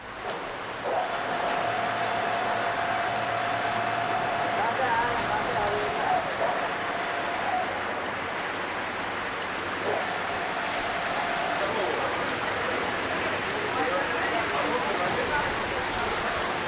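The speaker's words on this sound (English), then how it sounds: "the rains beneath the tropics are always violent" Heavy tropical rain during the monsoon season pours in a dense, steady hiss that lasts throughout, with a low hum and a faint tonal whine underneath.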